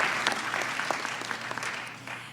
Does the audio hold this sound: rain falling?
no